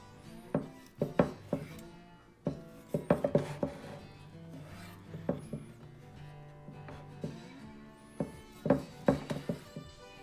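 A knife slicing through a cooked medium-rare steak, close-up rasping cuts in short strokes with brief pauses between, some strokes grouped in quick runs, alongside faint knocks on a board.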